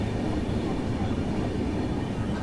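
Valsad–Haridwar Superfast Express train running, a steady low rumble of wheels on rails that holds even and continuous throughout with no clear voices.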